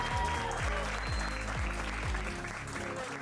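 An audience applauds at a sales event, a steady dense patter of clapping that runs the whole time under loud, bass-heavy music.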